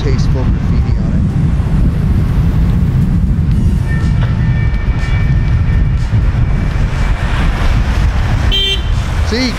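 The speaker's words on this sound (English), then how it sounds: "There's a train." Graffiti-covered train rolling past nearby, a loud continuous rumble and clatter of rail cars with wind noise and a brief horn-like toot near the end.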